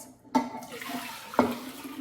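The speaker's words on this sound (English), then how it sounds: "Now we're going to pour it into a pitcher" Sweet tea splashes as it is poured into a clear pitcher in a home kitchen, with two sharp sloshing hits over a steady, quiet trickle.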